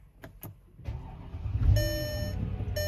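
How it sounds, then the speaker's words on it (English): A Mercedes-Benz R500 engine cranks and catches after a few clicks, then settles into a steady idle while dashboard chimes beep; the start follows fuel pump work and is close and fairly loud. "we gotta go ahead and try to start the car"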